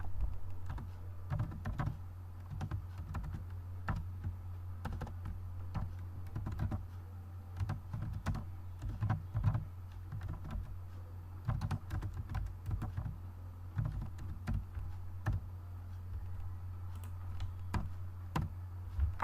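Code is typed on a computer keyboard in quiet, steady runs of close key clicks over a low constant hum, with brief pauses between bursts and no talk.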